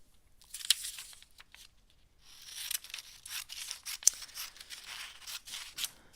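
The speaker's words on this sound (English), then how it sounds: "Let me find my scissors here, buried underneath everything" Scissors cutting a paper image at close range, a quiet run of snips, crisp slicing and rustling paper handling with a few sharper cuts, no speech.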